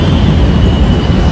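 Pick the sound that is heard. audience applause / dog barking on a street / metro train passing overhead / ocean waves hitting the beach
metro train passing overhead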